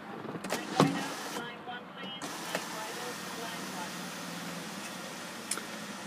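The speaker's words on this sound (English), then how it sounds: "This one doesn't just have the sunroof, it's got the moonroof. Only the front section opens here." A 2012 Jeep Grand Cherokee's moonroof, whose front section opens with a soft electric motor whir and a few light clicks and thumps heard close inside the cabin.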